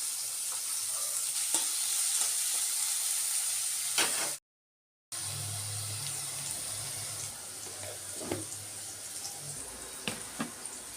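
Papads fry in a little mustard oil with a steady, loud crackling sizzle that runs throughout, broken by one brief silent gap midway, with faint clinks over the frying.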